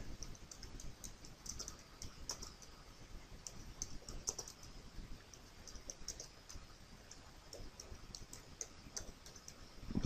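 Fingers type on a computer keyboard, a quiet, steady patter of light key clicks with no voices.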